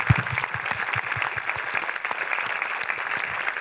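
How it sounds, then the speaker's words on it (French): Applause at a film festival opening ceremony, a room full of people clapping steadily at moderate volume, with distinct close claps and some low thumps standing out from the wash. "On s'applaudit."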